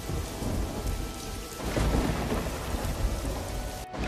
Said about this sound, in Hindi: और देखते ही देखते भयंकर बारिश शुरू हो जाती है